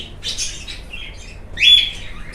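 Crested Japanese bantam poultry chirp nearby in a coop. Two short, bright bursts of tweeting are separated by a quiet gap.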